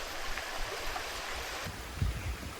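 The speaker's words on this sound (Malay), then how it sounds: "Jadi air terjun ada, cuma tak kuat." Weak waterfall in a forest on Gunung Ledang during hot weather, a continuous soft rush of falling water with a few low splashes toward the end.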